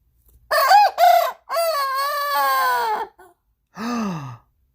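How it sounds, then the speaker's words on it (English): A young rooster crows in short broken bursts, two quick notes then a longer wavering crow and a final rough call, fairly close and clear against a quiet background. "Are you crowing? Are you a little rooster?"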